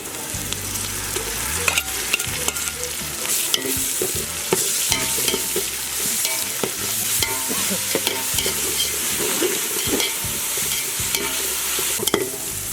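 Onions sizzling and frying in a pan for Dindigul thalappakatti biryani, with steady close crackle and repeated stirring scrapes throughout, no talk.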